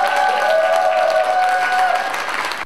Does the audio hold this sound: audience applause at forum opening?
yes